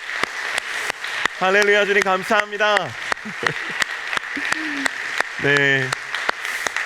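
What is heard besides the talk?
congregation applause in church service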